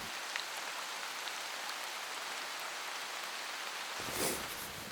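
Steady rain falls during a spring black bear hunt in Alaska, an even, soft hiss of drops that continues throughout and swells into a slightly louder rustling patter near the end.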